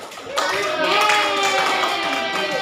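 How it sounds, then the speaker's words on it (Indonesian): A high school class applauds a classmate named Karina, with a burst of many hands clapping that begins suddenly and carries on steadily. Voices and cheering blend into the applause. "Beri aplaus dulu untuk Karina."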